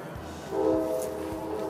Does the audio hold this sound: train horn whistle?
yes